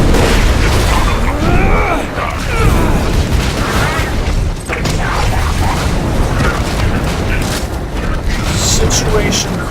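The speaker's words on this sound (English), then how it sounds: "Let's get some use out of grenades." Grenades go off in the Borderlands 2 shooter, loud booming blasts and bursts layered with gunfire and game effects in a dense, constant din, with a voice talking over the action.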